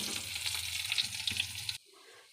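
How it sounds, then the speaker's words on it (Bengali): Eggplant pieces frying in a pan give a close, crackling sizzle with light stirring scrapes, then cut off abruptly near the end to near silence. "এবারে বেগুন কটা ভেজে নেব, একটু লাল লাল করে ভেজে নেব বেগুনটা।"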